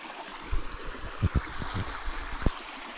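A steady wash of running stream water with a few soft low thumps and splashes, fairly close and continuous throughout.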